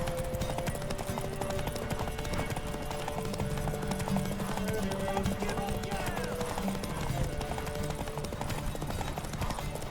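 Rhythmic clip-clopping of horse hooves in The Witcher 3: Wild Hunt runs steadily under voices and background music, loud and continuous throughout.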